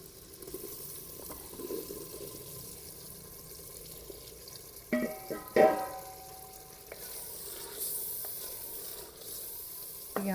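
Potatoes and spinach go into a pan of frying onion masala, setting off a low sizzle broken by a few sharp utensil clinks and scrapes midway.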